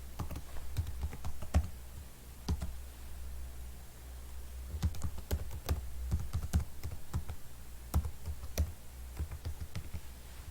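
Password typed on a computer keyboard, close and fairly quiet, with sharp key clicks coming in uneven bursts and short pauses between.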